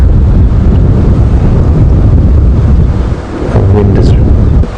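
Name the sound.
wind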